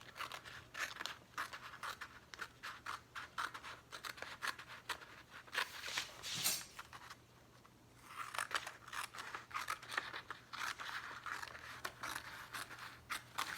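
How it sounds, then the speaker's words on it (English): Scissors snipping through a paper page along a line in rapid repeated crisp cuts, close and dry, with a brief pause midway before cutting resumes. "So the first thing I'm going to do is just cut on this black line"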